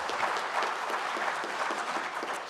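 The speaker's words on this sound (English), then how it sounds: "a huge round of applause for Alistair" An audience at the International Churchill Conference in Edinburgh gives a round of applause, a dense continuous clatter of many hands at steady loudness throughout.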